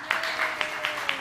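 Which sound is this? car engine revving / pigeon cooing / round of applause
round of applause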